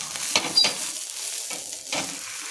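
Cheese dabeli toasts in a pan, being browned on both sides, with a soft steady sizzle broken by several short scraping stirs, close and moderately quiet, with no one talking.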